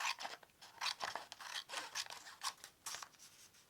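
Scissors trim a paper journal page with a quick series of soft, close snipping cuts in an uneven rhythm, faint and alone with no talking.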